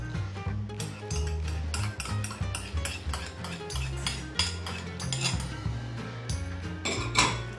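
Spoon or utensil working a meatball mixture with seasonings and garlic in a bowl, giving steady repeated scraping and clinking strokes at close range, with no voices.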